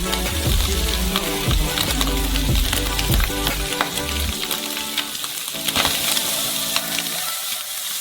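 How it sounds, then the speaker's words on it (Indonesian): Vegetables fry in a pan of rendered bacon fat, giving a loud, steady, close sizzle with the clatter of stirring that continues throughout, with no talk. "Dan sudah menggoreng semua sayuran kita di atasnya."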